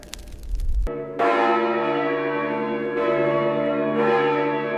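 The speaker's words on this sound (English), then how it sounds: "And when the bell rang again," A large church bell tolls loudly in several strikes, each with a long, shimmering ringing decay that overlaps the next. It follows a brief burst of noise at the start.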